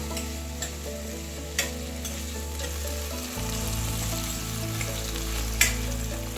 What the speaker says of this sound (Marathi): बटाटा पण छान असा परतवून घ्यायचा आहे